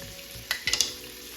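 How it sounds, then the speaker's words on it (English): Meat fat renders and fries in a pan for Southern green beans, a steady low sizzle with a few brief louder pops and crackles. "I'm just waiting on as much of the fat as I can to render out of this, and for it to get good and crispy"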